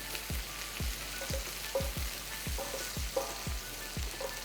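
Onions and shallots sauté with a little adobo seasoning in a non-stick or cast iron pan, giving a steady soft sizzle broken by a few faint, regular scraping strokes from stirring.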